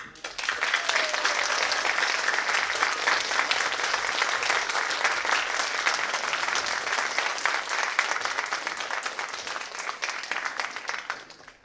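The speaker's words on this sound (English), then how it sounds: "Now I request all audience to join me for a great round of applause for all the performers this evening" A large audience at the AHSNB Cultural Gala 2022 gives the evening's performers a long, vigorous round of applause, dense and steady clapping filling the hall before fading out at the close.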